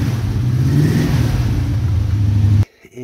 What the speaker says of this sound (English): And you'll hear what those sound like